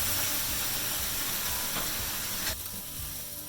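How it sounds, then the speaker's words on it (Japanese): A hamburg steak patty steam-frying in a covered pan, giving a loud, steady sizzle and hiss of evaporating water that drops slightly near the end. "蒸し焼きしてるからね。 こうなんか水分を、結構飛んでるね。"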